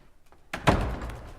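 Heavy doors of a university college in Oxfordshire swing open with a solid thunk after a brief quiet moment, followed by a fuller, sustained rush of room sound close by.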